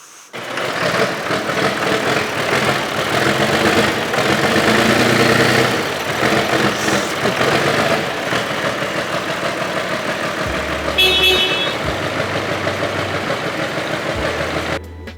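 A John Deere tractor engine idles steadily and loudly up close, a continuous low rumble with a rough mechanical knock, a few brief clanks and low thumps breaking in near the end.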